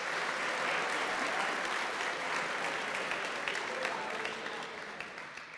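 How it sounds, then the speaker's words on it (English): Sustained applause from an audience at a student athlete awards ceremony honouring academic achievement, a dense steady wash of clapping hands throughout, fading slightly toward the end. "give yourselves a round of applause for that"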